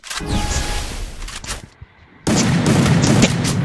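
Gunfire in a shooting video game: loud, close bursts of shots and booming blasts, a brief near-silent lull, then another heavy burst of firing.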